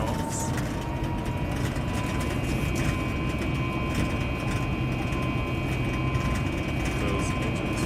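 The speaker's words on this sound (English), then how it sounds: "Those engines fired up." Inside the cabin of a KLM Boeing 737 MAX 8 on takeoff, the jet engines give a loud, steady, low roar, with a constant whine layered over it.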